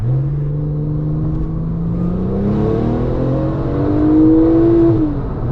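A tuned Porsche 911 997.2 Turbo engine in Sport Plus mode, revving hard toward its 7,000 RPM redline, heard as a loud, steady rising whine and roar close up with no talking.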